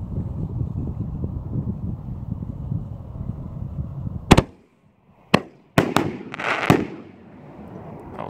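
Three 60g canister firework shells from the Six Shells of Vengeance set burst outdoors in sharp, loud booms with crackling tails, following steady wind-like rumble from the launch and ascent.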